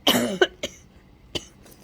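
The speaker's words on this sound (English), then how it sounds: "Sorry about the cough." A single person coughs sharply several times up close, a hard burst followed by a few smaller coughs, with quiet pauses between.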